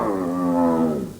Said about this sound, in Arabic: أسد.